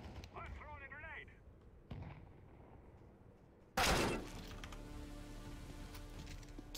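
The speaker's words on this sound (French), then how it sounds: "I'm throwing a grenade" A single loud grenade blast in an online shooter game, a sharp sudden burst followed by ringing rumble and debris, coming after a few seconds of quieter game sounds with a voice talking earlier.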